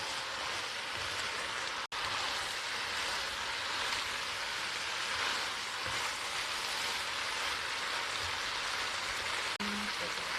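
Pork stir-fried with cabbage, shiitake mushrooms, onion, leeks and green chili gives a steady, dense sizzle like rain, broad and continuous at close range, with one brief dropout near the start and a faint clink near the end.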